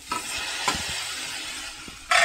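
A spoon stirring tomatoes and drumstick pieces in a cooking pot for a curry, with soft sizzling underneath and a few scraping knocks, ending in a louder clatter.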